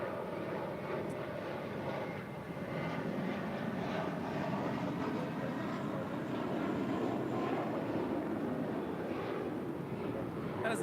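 An American Airlines Airbus A321 jet at LAX produces a steady, broad engine roar that holds at an even, fairly loud level for about eleven seconds with no break.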